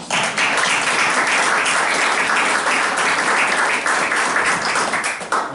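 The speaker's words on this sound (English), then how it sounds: "So I want to give you a round of applause." Applause at a village board meeting in Garden City: a dense, sustained round of clapping from a crowded room, steady and fairly loud throughout before easing at the very end.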